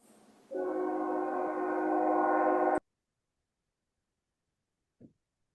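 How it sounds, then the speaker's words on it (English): Passing train sounding its horn, a loud sustained multi-tone blast heard through a call line for about two seconds before cutting off abruptly, leaving silence and a brief faint knock afterward. "Someone's got a train."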